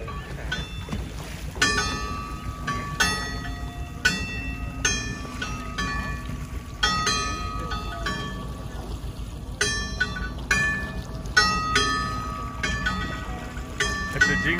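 A bell buoy ringing at sea off Bodega Bay, repeated clear metallic clangs at irregular intervals over a low rumble of boat engine and water.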